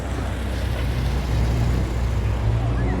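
A steady, loud low engine rumble and road roar as a convoy of classic cars drives past at a Practical Classics magazine meet, close and continuous, with a voice speaking faintly underneath.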